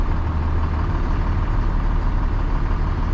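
A truck's diesel engine runs at a steady, loud idle just after start-up, a dense low rumble with no change in pace and no voices.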